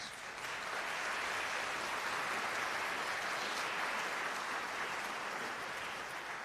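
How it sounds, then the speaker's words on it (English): Sustained audience applause at a band concert finale, a large crowd clapping steadily and evenly for several seconds, full and continuous with no talking. "Please give them a big round of applause."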